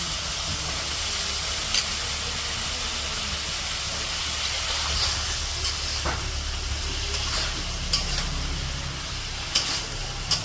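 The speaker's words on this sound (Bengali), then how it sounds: "এখন সবজিগুলো দিতেছে সবজিগুলো কষে নেব" Potato, eggplant and radish fry with spices in a pan for a village-style curry, giving a steady, dense sizzling hiss with occasional faint pops and clicks.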